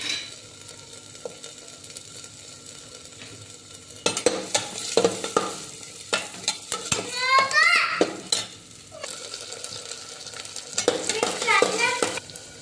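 Potatoes and finely chopped onion frying with garlic in a pan, a soft sizzle broken by scraping stirs and clatter of a utensil against the pan, with brief voices in the background.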